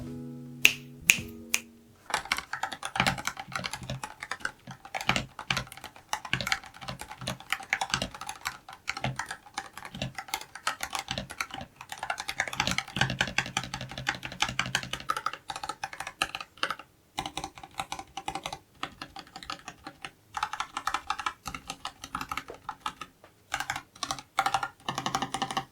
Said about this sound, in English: Here's a quick sound test with these silicone keycaps